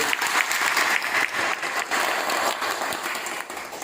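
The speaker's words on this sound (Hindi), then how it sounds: "एक बेर जोरदार ताली अहाँ सब बजाइए।" Crowd at an outdoor Jan Suraaj padyatra rally in a village gives loud, dense applause, steady and continuous throughout.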